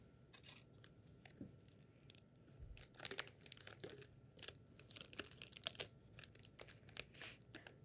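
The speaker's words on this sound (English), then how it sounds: "I'm sealing the plastic bag before I let the chips go" Close, crinkly plastic rustling with sharp clicks and snaps, irregular and continuous, as a bag holding chips is pressed and sealed.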